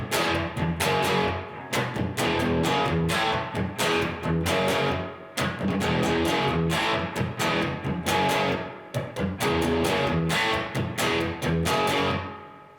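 Electric guitar in standard tuning playing a power-chord riff, with loud, punchy chord stabs in repeating phrases separated by brief gaps, alone and close.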